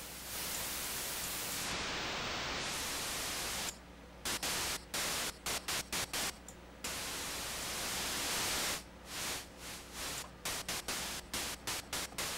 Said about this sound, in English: I just want like white noise